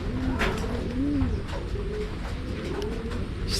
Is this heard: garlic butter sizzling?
no